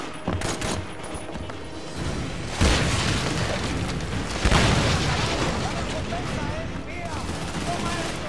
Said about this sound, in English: Use the grenade!